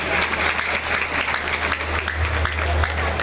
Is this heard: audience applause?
yes